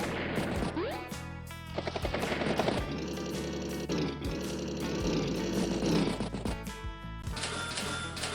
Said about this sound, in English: Now the Battlecopter strikes the infantry there.